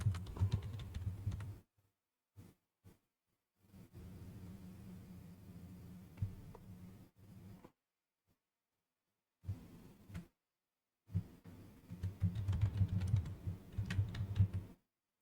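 Bursts of typing on a computer keyboard, rapid close clicks in several runs separated by silent pauses, with no voices.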